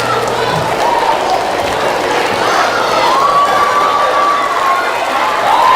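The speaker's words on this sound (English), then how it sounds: "Thank you for your applause" A student audience of eighth graders at a middle school presentation claps and cheers, with shouts and whoops rising over sustained applause throughout, loud and close, swelling slightly at the end.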